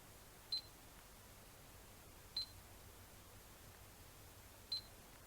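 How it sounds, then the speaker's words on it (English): Xiaomi Yi action camera giving three short, faint electronic beeps spaced about two seconds apart while taking photos, each beep paired with a quiet shutter click, in an otherwise quiet room. "There's 2 beeps per photo, by the way."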